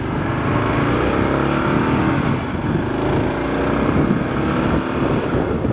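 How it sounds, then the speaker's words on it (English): A 2022 KLR 650 motorcycle rides through busy road traffic, its steady engine drone blending with a constant roar of wind across the microphone, loud and close, with no talking. "See what I'm talking about this traffic? It's crazy here."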